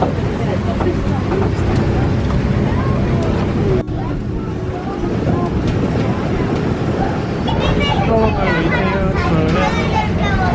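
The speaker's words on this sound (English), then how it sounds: "We're going on a tractor and we're going to go pick some fruit and vegetables." Steady low engine rumble with wind buffeting throughout, voices chattering over it, the vehicle drone continuous and close.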